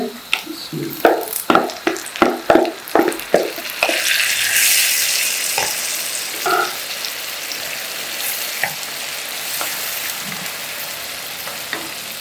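Clattering spoon taps give way to a loud hiss as tomatoes hit a hot pan for dal, settling into steady sizzling with occasional stirring clinks.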